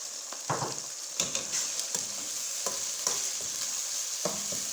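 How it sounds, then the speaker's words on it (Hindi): Tomatoes and spices, including garam masala, dried coriander, red chilli, salt and turmeric, fry in a pan for beef liver masala, with a steady sizzle broken by a series of scraping stirs, close and without talk. "अब इसमें हम टमाटर डाल देंगे"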